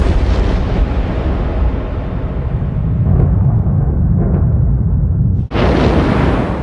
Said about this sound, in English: this flings off huge amounts of dangerous material in very large explosions.